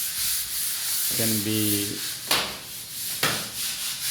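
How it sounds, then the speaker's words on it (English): A skimmed plaster wall is sanded by hand before an acrylic undercoat, giving a steady scratchy rubbing with a couple of sharper strokes, while someone speaks briefly under it. "we're doing the sanding after skimming. Now we are doing the sanding so that the wall"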